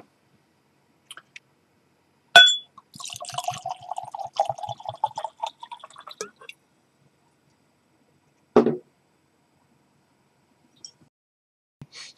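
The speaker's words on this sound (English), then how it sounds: "I'm going to pour a fresh glass so you can see the difference" Non-chill-filtered whisky pours into a glass in a short glugging trickle lasting a few seconds, close and clear, bracketed by sharp clinks of glass on a quiet background.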